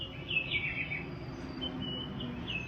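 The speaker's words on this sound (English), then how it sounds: "So this makes some little bird noises, and that sounds so cute to wake you up in the morning." Little bird chirps from an alarm clock charger, a repeated high twittering call played at a steady moderate level over a faint background hum.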